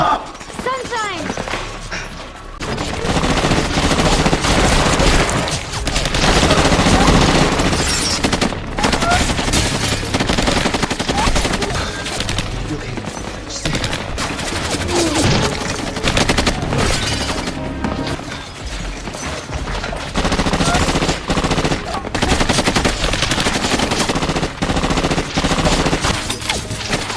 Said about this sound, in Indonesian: Baku tembak itu pun terhenti setelah semua anak buah Khalid yang mengejar mereka tewas di tempat